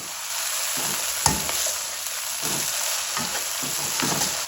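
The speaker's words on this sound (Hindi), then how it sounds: "अब इसकी हम करेंगे भुनाई।" Mutton pieces taken from yakhni sizzle loudly in hot oil as they are fried for yakhni pulao, a steady close hiss broken by a few soft stirring knocks, no talking.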